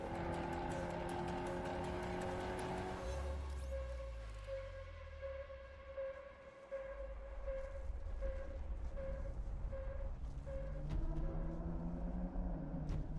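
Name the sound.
Dodge car engine with Fratsonic exhaust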